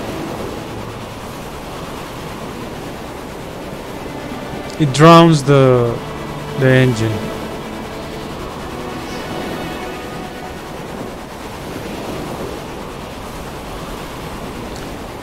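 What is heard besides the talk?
big ocean waves in the video game Stormworks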